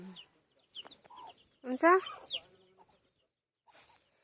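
Backyard chickens clucking nearby in short bursts, one louder squawking run of clucks in the middle, with a person speaking briefly around them.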